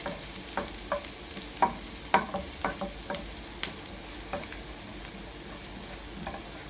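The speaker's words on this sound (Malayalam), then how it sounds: "ഇനി നമ്മൾ ഇത് ഇളക്കി കൊടുക്കാം." Curry leaves, ginger, garlic and chilli sizzle in a pan as a utensil stirs them, with a steady hiss under repeated sharp scraping clicks from the spoon against the pan.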